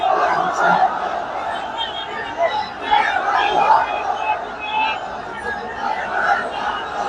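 A large gathering in Dhaka shouts back in answer to a takbir call, a massed roar of many voices rising and falling in waves for several seconds.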